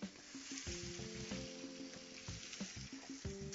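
Steak sears in very hot olive oil in a pan, a continuous close sizzle and crackle with small pops and occasional clinks or stirring knocks throughout, with no one talking.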